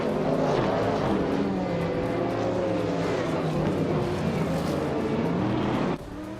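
A 1991 Chevrolet Intrepid RM1 and other race cars in a racing video game produce a continuous loud engine drone with shifting revving tones, and the sound drops abruptly near the end.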